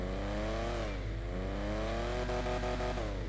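In the GTA V video game, the Dewbauchee JB700, a 60s British classic sports car, revs loudly and steadily, engine pitch rising, dipping and climbing again, close and alone without any talk.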